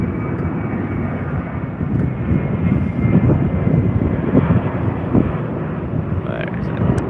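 An airliner in a pride livery departing for Brisbane, a steady broad jet roar that swells slightly through the middle, heard from a distance outdoors with light wind on the microphone and faint voices alongside.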